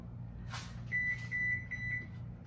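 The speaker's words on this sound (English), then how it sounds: "my oven says I'm ready" Oven sounding its preheat-finished alert: a short clatter followed by a series of five clear electronic beeps in an uneven pattern over a low hum.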